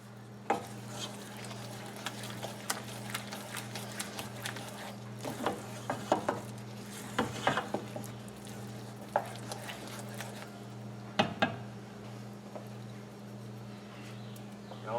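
Risotto is stirred in a pan as butter is worked in, giving soft, irregular scraping and sloshing strokes over a faint, steady background hum.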